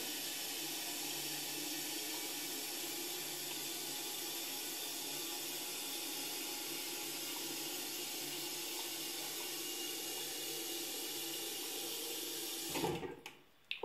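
Steady hiss of water running into a toilet cistern as it refills past a dirty float valve, continuous and fairly close, then cutting off abruptly near the end as the valve shuts.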